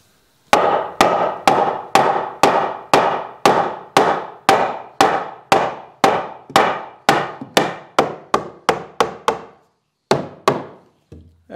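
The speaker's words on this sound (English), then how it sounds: "It's an air hammer." An air hammer working metal, striking in a steady run of sharp, loud blows that slowly speed up, then stop briefly before a few final hits.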